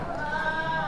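A single Sojat goat kid, about four to five months old, at a goat yard in Kalina, Mumbai, gives a short, close, sustained bleat with a steady, wavering tone.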